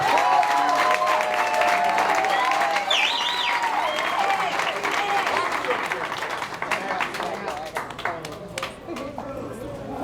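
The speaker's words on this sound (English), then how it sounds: "Let's give Devon a round of applause." Loud, steady applause from an audience at a post-fight boxing press conference fills the whole stretch, with cheers and whoops over dense clapping that tapers slightly toward the end.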